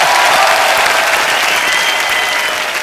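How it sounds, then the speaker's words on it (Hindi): A studio audience at a comedy talk show bursts into loud, sustained applause, a dense wall of clapping from a large crowd that holds steady throughout. "ब्रावो के लिए और जोरदार तालियां हो जाए यार।"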